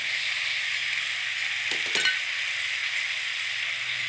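Rice noodles stir-fried with plenty of vegetables in a pan, a steady loud sizzle running throughout, with a couple of brief scraping clinks of the spatula near the middle.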